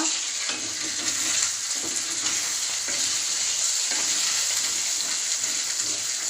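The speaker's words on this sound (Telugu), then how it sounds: "మీడియం ఫ్లేమ్లో పెట్టుకొని బాగా కలుపుకోండి. చిన్న ముక్కలు అయ్యే విధంగా బాగా ఫ్రై చేసుకోండి" Egg noodles sizzle and fry steadily in a hot pan on medium flame while being stirred, a continuous close crackling hiss with faint scraping and no talking.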